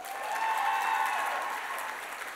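Brief applause for event staff at a 4-H state gathering's opening ceremony, a soft, even wash of clapping from a crowd with faint voices underneath.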